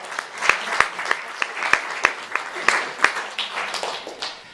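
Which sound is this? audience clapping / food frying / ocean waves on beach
audience clapping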